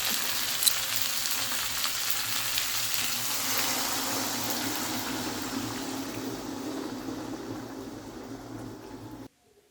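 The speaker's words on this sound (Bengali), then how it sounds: "ছটফট করে রান্না বসিয়ে দিয়েছি শিম আলু ফুলকপি দিয়ে মাছের ঝোল" Fish curry with beans, potato and cauliflower sizzles and simmers in a pan. The frying hiss is steady and close, eases off slowly, and then cuts out at the end.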